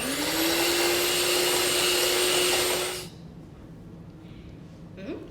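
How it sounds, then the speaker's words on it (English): An electric mixer whirs steadily and loudly as it whips chocolate lava cake batter until frothy, then cuts off after about three seconds, leaving quiet room noise. "we're gonna mix this until frothy consistency"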